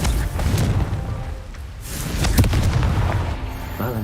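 A Confringo fire spell explodes in Hogwarts Legacy, a loud booming blast with a crackling burst, followed by rumbling that carries through the whole stretch.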